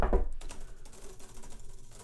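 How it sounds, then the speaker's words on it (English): Rapid clicking of computer keys being typed, steady and close, recorded by a USB microphone about a meter away, with no voices. "Keyboard"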